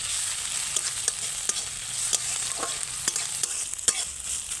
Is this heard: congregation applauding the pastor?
no